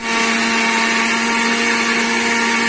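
An electric grinder whirs loudly and continuously, pulverising biscuits and sugar into powder with a steady high-pitched motor whine and no pauses.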